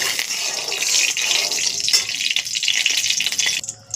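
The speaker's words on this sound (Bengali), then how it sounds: "এবার আমি মাছগুলোকে কড়াইতে দিয়ে দিচ্ছি" Fresh pond fish frying in hot oil in a wok, a loud, steady, close-up sizzling hiss that fades sharply just before the end.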